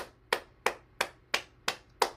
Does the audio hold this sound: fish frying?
no